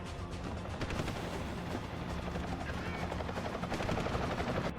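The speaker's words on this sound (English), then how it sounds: "I hear a helicopter." A helicopter drones in Deus Ex: Human Revolution, a loud continuous rotor rumble mixed with scattered gunfire and game noise.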